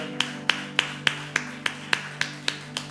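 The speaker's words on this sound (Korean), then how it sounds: "우리 하나님 앞에 박수로 영광의 박수를 올려드립니다" A church congregation claps together in a steady, even rhythm during a Sunday service, with about ten crisp beats over a low, sustained tonal hum.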